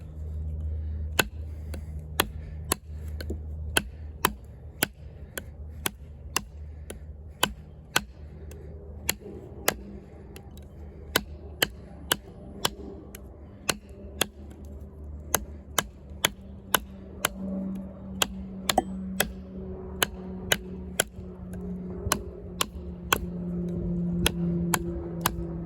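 Drop point knife of 8Cr13MoV steel chopping at a knot in a tree branch outdoors, a long series of sharp, evenly spaced thwacks roughly every half second over a faint background.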